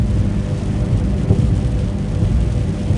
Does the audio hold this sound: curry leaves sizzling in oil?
no